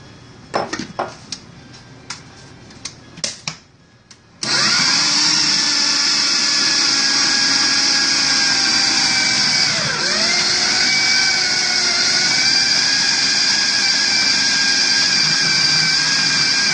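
A Ninja blender mixes cookie butter with powdered sugar, starting with a few clattering knocks and then a loud, steady motor whine that drones on with a brief dip in pitch as the load shifts.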